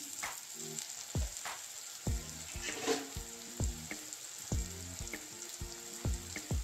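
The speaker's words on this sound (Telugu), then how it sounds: "సో ఇప్పుడు ఆనియన్స్ అయితే వేగాయి కదా బాగా" Onions sizzle steadily in a pan for an aloo masala filling for red chilli dosa, a continuous frying hiss punctuated by repeated sharp clanks of a spoon or spatula against the pan.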